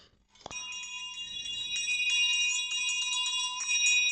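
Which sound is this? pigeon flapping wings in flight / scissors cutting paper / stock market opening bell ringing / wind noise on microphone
stock market opening bell ringing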